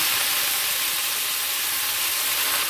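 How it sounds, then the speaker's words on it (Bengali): Chopped bottle gourd leaves hit hot oil in which dried chillies and garlic have been fried, and they give off a loud, steady, close-up sizzle with a broad hiss and no talking. "এবার কুচিয়ে রাখা লাউ পাতা দিয়ে দিচ্ছি ওই গরম তেলে"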